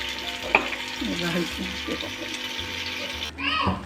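Ginger garlic paste sizzling in a pan while being stirred, a close steady fry with a clatter near the end; a voice chatters faintly underneath.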